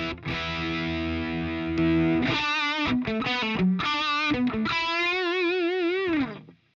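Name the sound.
electric guitar through boost pedal turned low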